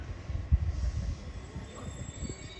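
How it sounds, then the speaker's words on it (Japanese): A 253 series Nikko limited express train rolling into Hasuda station, a rumbling, rhythmic low clatter of wheels over the rails that peaks early and then continues steadily at close range. "現在3番目に到着しております電車は発車駅にてはドアは開かない特急列車でございます"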